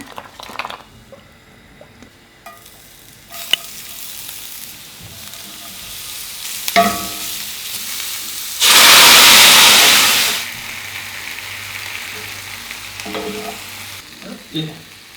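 Garlic, ginger, basil and mushrooms sautéing in a frying pan, a low sizzle with scattered stirring clinks and scrapes, broken by a loud burst of hiss in the middle before settling back to a quiet crackle.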